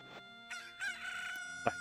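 A cucco chicken in the video game Zelda: Ocarina of Time crows a short, bright cock-a-doodle-doo in a few rising bursts, closing with a sharp cluck-like note, clear and alone.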